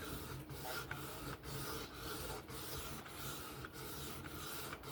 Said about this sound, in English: sharpening the kitchen knife